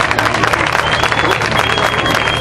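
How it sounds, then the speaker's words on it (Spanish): Applause at the 2011 village festival crowning of the royal couples in Turre Viejo, a steady, dense round of clapping from a crowd with some voices in the mix. "un aplauso, ¿no?"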